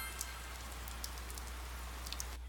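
Rain in Persona 4 Golden falls as a steady, even hiss, with a few faint droplet ticks and a low constant hum underneath.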